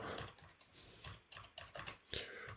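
Rapid, uneven typing on a computer keyboard, a close run of light key clicks with short pauses between bursts and no talking.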